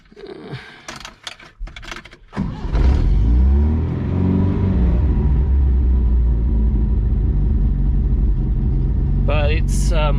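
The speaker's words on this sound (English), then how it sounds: "I've got to pull the choke out to start it" A Datsun 180B engine with the choke pulled cranks, catches and settles into a loud, steady rumbling idle close by, after a few seconds of clattering and handling noise; a voice comes through briefly near the end.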